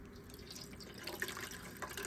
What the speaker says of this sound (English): Now I'm just going to gather this up and squeeze out all of the excess juice.